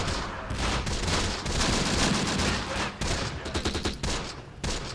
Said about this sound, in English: I think we're already firing at that particular machine gun